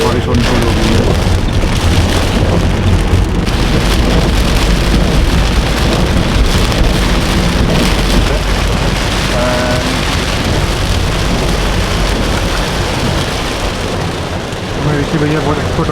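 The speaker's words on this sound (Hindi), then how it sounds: "हल्की फुल्की बारिश शुरू हो चुकी है यहाँ पे" Steady rain pours down continuously over a rumbling background, heard from inside a moving Toyota Corolla Altis in a hill area, dense and loud throughout.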